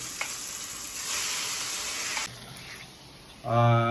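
Steady sizzling of marinated chicken frying in a hot pan, a continuous crackling hiss that dips briefly before a sharper burst near the end.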